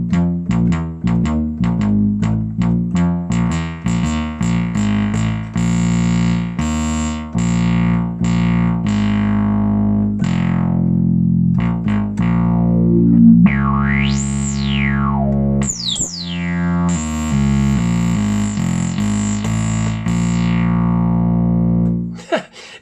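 ARP Odyssey synthesizer playing a sawtooth wave through its filter, with repeated short notes and held tones whose brightness shifts as the filter opens and closes, plus swooping pitch sweeps, loud and alone.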